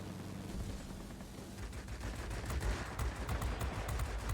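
Machine guns on a Corsair F2G fighter plane in World of Warplanes fire a dense, rapid rattling burst that builds and carries on to the end, loud and continuous over engine noise, with no talk.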